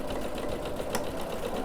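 A sewing machine runs steadily at close range, back stitching the seam of an outdoor pillow, with a continuous whirring hum and no voices.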